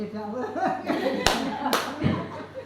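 Two quick, sharp hand claps from a teacher at a school staff meeting ring out about half a second apart, close by, while people keep talking around them.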